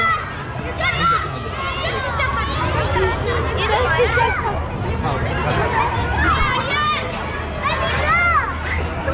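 Dense crowd of children chattering and shouting at an outdoor school fete with game and food stalls, a steady close babble of many young voices with excited calls rising above the din throughout.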